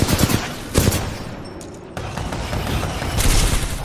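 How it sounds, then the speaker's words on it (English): An L-Star energy gun fires in Titanfall 2, a rapid sustained stream of loud gunfire bursts with brief pauses, heavy and close amid game noise. "Let's switch over to the L-Star for a bit"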